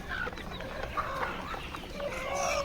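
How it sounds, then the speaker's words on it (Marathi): Several desi village hens cluck and murmur softly at a moderate distance on a poultry farm, overlapping calls rising now and then over faint farmyard background. "अशा सर्व आपल्या कोंबड्या आहेत"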